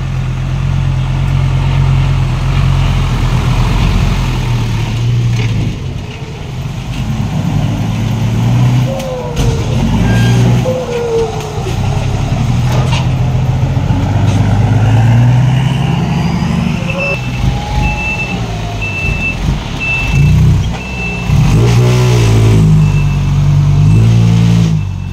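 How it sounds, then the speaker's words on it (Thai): Trucks and cars roll past at a dirt dumping site, loud engines rumbling and revving one after another, with hissing air brakes and a high whining tone partway through, heard close and continuously. "รถมาไม่ขาดสายครับ"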